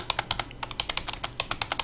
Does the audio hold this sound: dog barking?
no